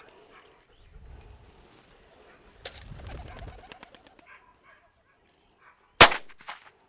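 A sharp snap of a launch box opening, followed by fluttering wingbeats of a pigeon taking off during Weimaraner gundog training, then a loud bang rings out.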